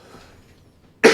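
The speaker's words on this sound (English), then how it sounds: "we're going to have a few sniffles and a few little coughs here and there" A single sharp cough from someone with a cold bursts out loud and close after a second of near silence, with a slight throaty edge.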